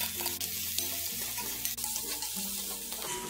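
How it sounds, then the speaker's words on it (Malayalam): Chopped ginger and garlic sauté in sesame oil in an iron pan for lemon pickle, a continuous close, even sizzle with faint stirring scrapes and no voices. "ഇതിലേക്ക് ഇനി ഈ അരിഞ്ഞു വെച്ചിരിക്കുന്ന ഇഞ്ചിയും വെളുത്തുള്ളിയും കൂടി ഇട്ട് വഴറ്റി കൊടുക്കാം"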